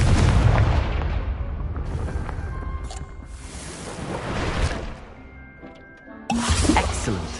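A Confringo spell explosion in the video game Hogwarts Legacy, heavy booming blasts with rumbling decay, a fresh loud burst near the end, along with faint in-game effects.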